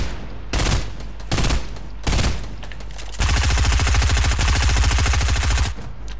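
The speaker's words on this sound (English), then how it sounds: "He's shooting grenade launchers." Weapon fire in the Fortnite battle royale game, loud close bursts of rapid repeated shots, several short volleys followed by a longer sustained stretch of continuous firing.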